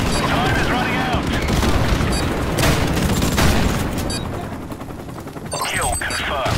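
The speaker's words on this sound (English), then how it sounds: "Friendly airstrike on the way." Airstrike explosions and heavy gunfire roar in Call of Duty: Modern Warfare Remastered, loud and continuous, with an in-game voice announcing over the blasts.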